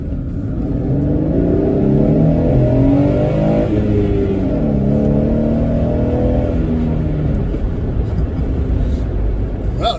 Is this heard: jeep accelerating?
yes